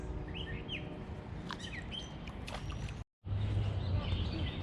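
Birds chirp and call in short bursts over steady outdoor ambience with a rushing, water-like background.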